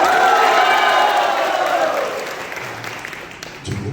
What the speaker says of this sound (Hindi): थोड़ा सा चिल्ला के ताली बजाइए